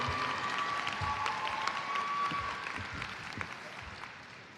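A crowd applauds at a high school graduation ceremony. The clapping is thick and sustained, with a faint steady whistle-like tone early on, and it thins gradually toward the end.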